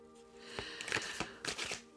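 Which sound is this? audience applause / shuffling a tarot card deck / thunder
shuffling a tarot card deck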